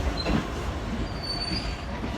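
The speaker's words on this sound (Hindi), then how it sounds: "सामने हमारी 18 डाउन मिलत एक्सप्रेस बहुत ही प्यारा कर्व ले रही है और ब्रेक सप्लाई हो गई है" Millat Express passenger train rounding a curve with brakes applied, giving a steady, loud rolling rumble with faint high wheel squeal throughout, no talking.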